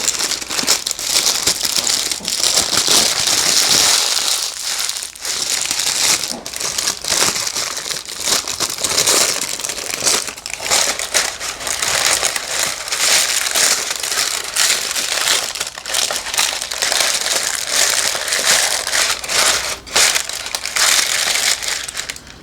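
Parchment paper for lining a brownie pan is crumpled continuously and loudly up close, a dense crackling and crinkling that goes on at length.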